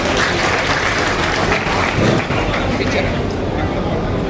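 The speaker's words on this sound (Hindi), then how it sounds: "जोरदार तालियों से स्वागत" Sustained loud applause from a large crowd at a BSP political gathering, steady clapping that fills the space for several seconds.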